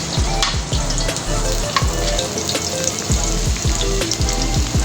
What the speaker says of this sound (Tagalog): Dapat ang bawang at sibuyas ay maging kulay kayumanggi.